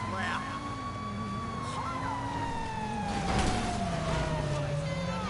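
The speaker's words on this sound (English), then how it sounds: "Get out the way, fire truck." A wailing fire truck siren rises and slowly falls, with a second tone beneath it and traffic rumble, as voices talk over it.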